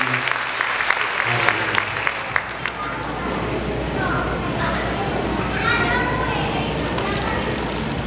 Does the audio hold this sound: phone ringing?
no